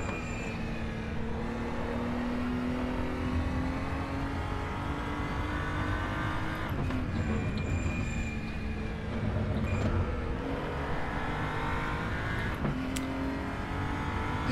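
A BMW M235i Racing car in the RaceRoom racing game gives a steady, fairly loud engine drone, with brief dips suggesting gear shifts near the middle and toward the end, and no talking.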